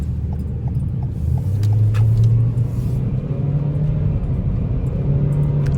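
Engine of a 2021 Toyota Corolla SE revving while driving, heard from inside the cabin as a loud, steady low drone whose pitch rises and holds as the car accelerates, with road rumble underneath and no talking.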